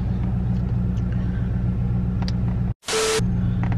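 A car being driven on the way to a nearby Walmart: steady, close low engine and road rumble fills the interior, broken by a brief dropout and a short burst of hiss near the end.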